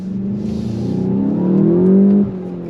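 A 2024 VW GTI 380 with a manual gearbox accelerates hard, its engine note rising steadily in a loud, smooth drone heard from inside before easing off near the end.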